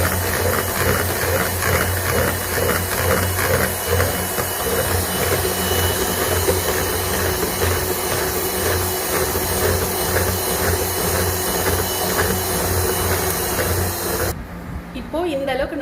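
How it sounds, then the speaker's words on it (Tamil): Electric beater whipping a homemade ice cream mixture with vanilla essence: a steady, loud whirring motor hum with constant hissing texture running almost unbroken, then cutting off near the end. "பீட் பண்ணிக்கலாம் மறுபடியும்."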